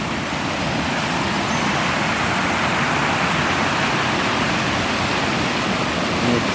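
Small waterfall beside a little bridge on a canal near a lock, giving a steady, loud broadband rush of falling water that continues unbroken throughout, with no voices.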